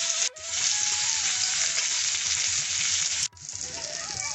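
Pomfret and Indian salmon fillets fry in a pan over medium-low heat, giving a loud, steady sizzle that runs almost unbroken, with two brief dips where the hiss drops out for a moment.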